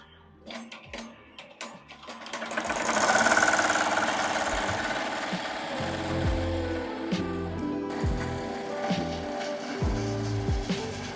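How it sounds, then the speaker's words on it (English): An embroidery machine stitches a design onto a minky blanket at 1100 stitches per minute. A fast, steady mechanical chatter and hum starts after a few light clicks and continues throughout at close range, with no talking. "I'm stitching at 1100 stitches per minute."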